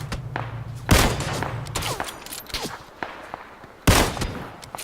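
Bursts of gunfire in the battle royale game PUBG: loud rapid shots and thuds, with two heavy blasts standing out and scattered quieter reports between them.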